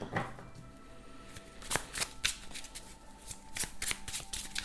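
A healing light tarot card deck is shuffled up close in several quick, papery bursts of riffling and sliding cards, with short pauses between them.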